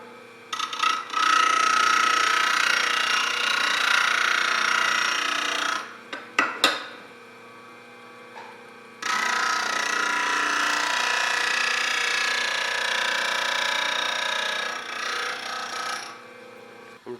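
A stabilized hybrid burl blank for an ice cream scoop handle spins on a wood lathe, giving a steady close rasping hiss as the tool cuts, in two long passes split by a short pause with a few knocks.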